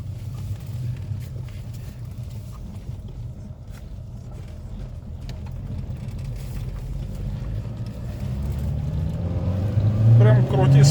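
Chipped VAZ-2110 engine revving up from idle: a low, steady engine drone that gradually climbs in pitch and loudness, peaking near the end, heard from inside the car with people talking over it.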